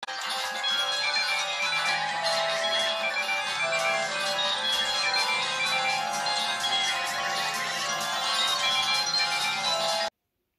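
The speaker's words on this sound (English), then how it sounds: "we're going to be doing a startup and shutdown on these free Hello Kitty mobile phones" A Hello Kitty mobile phone plays its startup tune, a bright electronic melody running steadily for about ten seconds before cutting off sharply.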